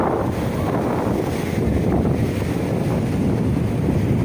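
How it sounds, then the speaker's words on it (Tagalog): Rough sea surf and strong wind buffet the microphone at a Pangasinan beach resort, a constant loud roar of breaking waves with no pauses. "Sobrang alon po."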